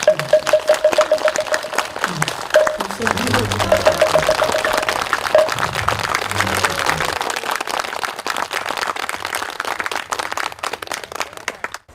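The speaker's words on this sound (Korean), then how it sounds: "모두 함께 우리 본홍스님께 박수를 한번 보내주고 싶습니다" Audience applause for a Buddhist monk at a memorial ceremony, a dense rush of clapping from a large crowd that holds steady, then thins and fades out near the end, with brief voices and tones early on.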